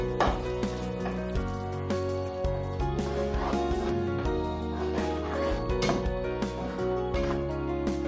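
Chicken tikka masala being stirred and fried in a pan, a steady close sizzle with repeated scraping and clatter of the spoon against the pan.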